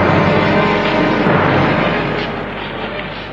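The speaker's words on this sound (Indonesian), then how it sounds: "ledakan-ledakan dahsyat terjadi di sana-sini" Dense, rumbling explosions and bursts of fire fill a radio drama battle scene, a loud continuous roar of booms and crackle that slowly eases in intensity.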